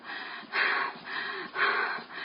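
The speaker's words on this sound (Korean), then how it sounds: "숨소리가 거칠어지잖아." Heavy, rough breathing from someone hiking uphill on Dobongsan, close and loud, with rhythmic rasping inhales and exhales repeating in waves.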